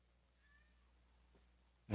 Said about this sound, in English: My cat wants out.